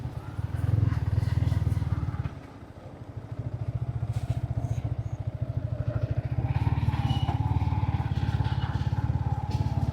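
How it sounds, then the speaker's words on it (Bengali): Two motorbikes ride along an off-road shortcut beside a maize field and riverbank, their engines droning close and loud with a dip in the middle, and the rhythmic putter carrying over rough ground. "দুটো বাইক নিয়ে আমরা যাচ্ছি"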